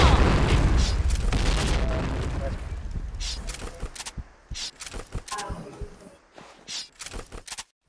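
A heavy grenade explosion booms loudly in the Point Blank video game, its blast rumbling and fading over several seconds, followed by scattered sharp gunshots and footstep-like clicks from the firefight.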